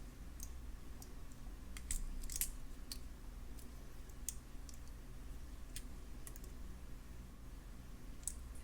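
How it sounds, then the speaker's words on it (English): Small jewelry pliers wrapping a wire loop tail for a bead necklace give faint scattered metallic clicks and ticks over a steady low hum, with no talking. "I'm going to grab the loop with my skinny pliers. I'm going to grab the tail and do a couple of wraps."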